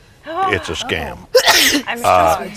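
A single sharp sneeze bursts out in the middle of a lecture, loud and close, with someone talking before and after it.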